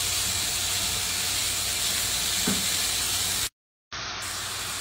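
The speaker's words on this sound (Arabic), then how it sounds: "هنا عندي لحم مفروم عجل، أحمره تقريبا" Minced veal sizzling in a pan over browned onions, a steady loud frying hiss throughout with a brief gap near the end, no voices.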